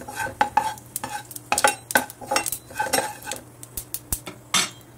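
Cumin and mustard seeds sizzle faintly in hot oil for a fenugreek dish while a metal spoon stirs and clinks against the pot in quick, irregular taps close by.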